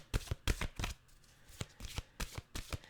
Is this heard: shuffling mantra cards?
yes